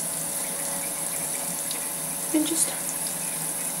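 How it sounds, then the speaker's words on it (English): Running tap water pours steadily over makeup brushes at a sink, a continuous close hiss with a brief splashy burst midway, and a voice speaks briefly over it. "just wet them in like running water"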